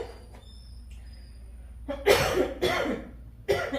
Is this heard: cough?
yes